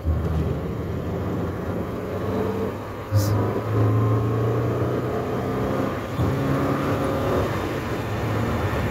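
A Mini's engine runs steadily and loud with a low droning tone while accelerating through a turn, with a brief rise in pitch around the middle and a faint whine over the rumble.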